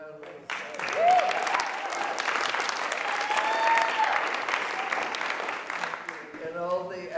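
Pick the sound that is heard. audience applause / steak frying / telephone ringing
audience applause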